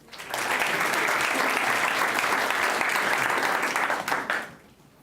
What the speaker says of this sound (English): We'll applaud her even just for that